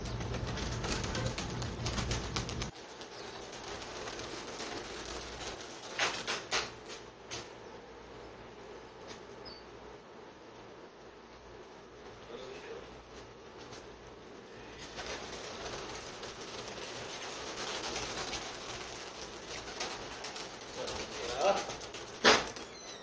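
Pigeons at a rooftop pigeon-flying competition in Jeddah, Saudi Arabia, during a one-day cup flight, cooing and fluttering faintly amid outdoor noise while people talk nearby.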